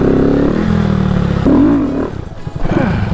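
A Honda Grom motorcycle revs on the throttle during a wheelie, its loud engine note droning, then rising and falling with throttle changes before dropping off near the end.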